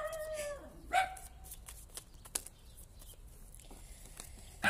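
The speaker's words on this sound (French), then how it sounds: "Voici mon chien, gardien de ces dames." A dog guarding the household gives a few short, moderately close barks and yips, with a sharp one near the start and another at the very end, over quiet room noise.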